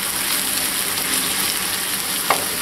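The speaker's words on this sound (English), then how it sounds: "Okay, the meat's pretty well browned." Meat browns in a frying pan with a continuous bright sizzle and crackle at close range, and a brief scrape near the end.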